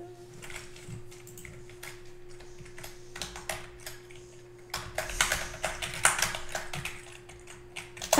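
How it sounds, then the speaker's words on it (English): Computer keyboard typing during a Fortnite session, with quick irregular clacks and bursts of keystrokes close to the mic, over a steady low hum and getting busier and louder toward the end. "I think you guys might hear my keyboard"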